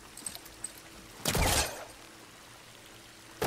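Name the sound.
water leaking from a main pipe in the video game Horizon Forbidden West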